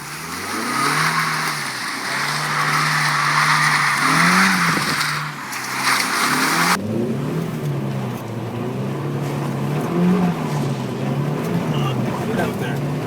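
A Mazda Miata drifting on a wet road in the rain, its engine revving hard in rising and falling surges with tire skid noise, loud and close throughout, with a short break partway.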